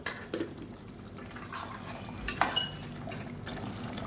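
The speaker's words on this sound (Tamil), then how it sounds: "இப்போ பாருங்கள் நல்லா தலை தலைன்னு கொதிக்க ஆரம்பிச்சிருச்சு" Pot of mutton curry (kulambu) coming to a boil, giving a low, continuous bubbling simmer with a few brief clinks and stirs around the pot; no one talks.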